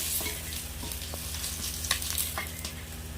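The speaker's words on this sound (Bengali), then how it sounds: "সব ল্যাঠা মাছগুলো আমি ভেজে নিয়েছি এবার আমি তুলে নেবো" Lata fish fry in hot oil in a pan, producing a steady, dense sizzle and crackle with scattered sharper pops, close and continuous with no talk.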